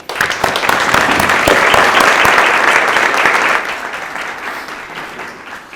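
An audience applauds at a township State of the Township address, honoring first responders: a dense, loud burst of clapping that holds steady for several seconds, then thins and fades toward the end.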